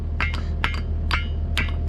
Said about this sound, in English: let's get our handy dandy hammer